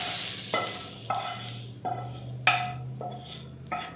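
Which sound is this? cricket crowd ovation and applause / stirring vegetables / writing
stirring vegetables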